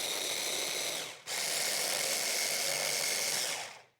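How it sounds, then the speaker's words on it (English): A food processor whirs briefly while blending basil pesto, a loud steady buzz with one short pause, then running on before cutting off, with no talk. "I'm going to put the lid on and give it another quick whiz"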